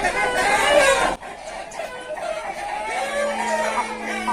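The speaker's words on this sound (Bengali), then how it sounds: "রবি ভাই মুরগি বাচ্চাটার মুখটা পরিষ্কার করলো" Aseel chickens cluck and call close by on a farm, a loud burst at first, then softer clucking and peeping with a brief crow-like note, with no one speaking.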